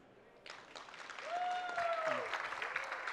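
At a U.S. Imagine Cup award presentation, applause builds from a few claps into fuller crowd clapping, mixed with cheers and whoops and a faint voice or whistle-like tones rising over it.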